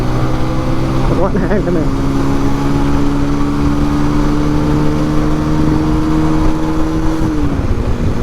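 A nine-year-old Bajaj Pulsar 150 motorcycle pulls hard in second gear, its engine droning loud and steady with a rising pitch that holds for several seconds before easing off, while a voice speaks briefly over it.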